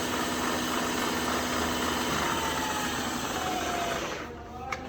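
A Southwest Industries Trak 3-axis CNC bed mill with a Kurt power drawbar runs its spindle at about 3,000 RPM in high range, giving a steady, loud machine hum with a faint whine that drops away near the end.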